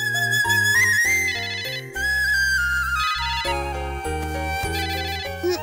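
A mobile phone ringtone plays a bright, melodic electronic tune with steady repeating notes over a bass line, loud and close, with no voices.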